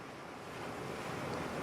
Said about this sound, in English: It feels so good to hear the waves coming into shore.